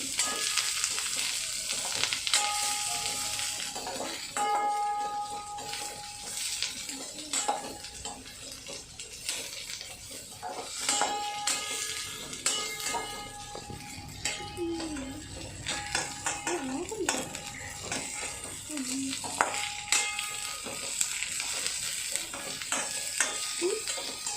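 Capsicum and baby corn sizzle as they fry in a pan with sunflower oil for baby corn Manchurian, with a spatula stirring and scraping the metal pan in irregular clinks over a continuous soft hiss.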